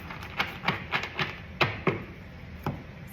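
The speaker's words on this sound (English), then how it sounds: "the Wisdom of the Oracle deck, which are these cards that I am shuffling" Oracle and tarot cards being shuffled by hand, a series of soft, irregular taps and riffling thumps close up, with no talking.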